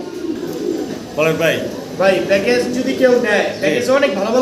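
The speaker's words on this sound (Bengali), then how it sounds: "কবুতর আছে" Pigeons coo in soft repeated rounded calls, close by and fairly loud, several birds overlapping in a short cluster.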